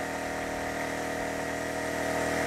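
A Champion 2500W dual fuel generator engine runs under load, a constant close, loud buzzing drone with steady vibration and no change in pitch.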